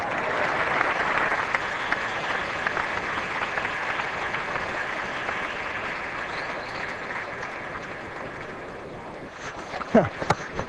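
Sustained applause from a large cricket crowd at a Sydney Test match against Australia, a wide, steady roar of clapping heard from a distance, with a brief louder burst near the end.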